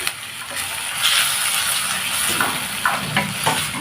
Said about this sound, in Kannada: ಚೆನ್ನಾಗಿ ಹಸಿ ವಾಸನೆ ಹೋಗೋವರೆಗೂ ಈ ರೀತಿ ಎಣ್ಣೆಯಲ್ಲಿ ಫ್ರೈ ಮಾಡಿಕೊಂಡ್ರೆ ಚೆನ್ನಾಗಿರುತ್ತೆ